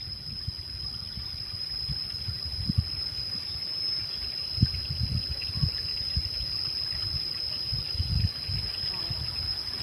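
Water pours down a drainage spillway in a steady, close rushing wash, with low churning surges throughout and a faint voice occasionally under the flow.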